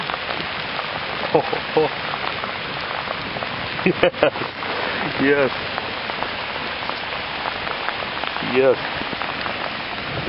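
Steady rain falling outdoors, a dense continuous hiss of drops on surfaces throughout, with a few short spoken interjections and brief knocks or handling noises over it.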